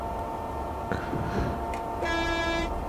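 A train horn in a railway driving game sounds one short clear blast near the end, following faint rumbling and brief clicks from the cab.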